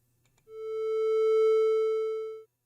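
A single pure synth tone made in Unreal Engine 5 MetaSounds with a one-second attack envelope swells in gradually, holds steady for about two seconds, then cuts off quickly; clean and alone.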